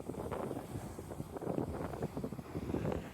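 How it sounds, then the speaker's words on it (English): Wind blows across a beach, a steady low rumbling buffet against the microphone with gusty swells, moderately loud and with no voices. "So it's windy on the beach"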